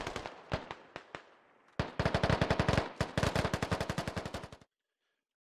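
Rapid automatic gunfire from the video game Squad, bursts of sharp cracks fired close and loud, a few spaced single shots first, then long fast strings of rounds before it cuts to silence.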